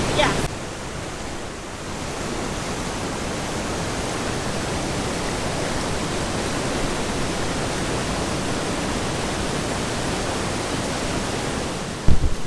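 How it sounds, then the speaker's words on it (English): Water thunders down the upper tier of Owu Falls as a dense, steady, broadband roar, close and constant for the whole stretch, with no break in the rush. "right now we are at the upper layer of the waterfall"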